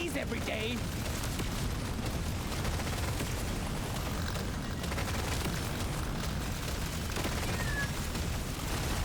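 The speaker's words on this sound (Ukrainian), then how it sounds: "Ой, які ж тут вибухи." In the video game Deep Rock Galactic: Survivor, dense explosions and rapid gunfire roar continuously at high loudness, with a voice talking underneath the constant barrage.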